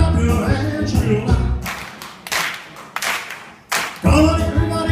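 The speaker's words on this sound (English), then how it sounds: "Come on, everybody, and clap your hands real loud" Hands clap loudly in a few crisp, spaced bursts during a song, alternating with sung, musical stretches.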